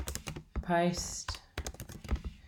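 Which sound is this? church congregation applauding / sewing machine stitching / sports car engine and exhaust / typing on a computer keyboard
typing on a computer keyboard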